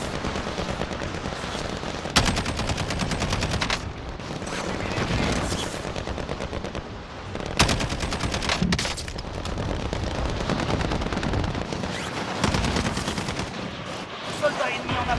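Dense automatic and machine-gun fire in a Call of Duty Warzone match, Black Ops Cold War season one, crackling nearly nonstop with several sharper loud bursts and muffled booms throughout, with no one talking.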